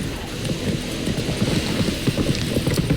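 Horse hooves trot on the ground in The Witcher 3 video game, an even, fairly close clip-clop rhythm with no talk.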